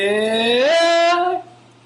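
A singing voice straining upward in chest register, then cracking and flipping abruptly into a thin falsetto at the passaggio before trailing off, a single short sung phrase.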